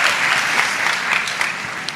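A church audience in Brazil gives dense, steady applause welcoming minister Damares, a continuous wash of clapping with no gaps.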